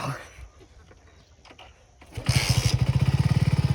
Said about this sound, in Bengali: দেখো শীতকালে সকাল সকাল কিক মারতে হবে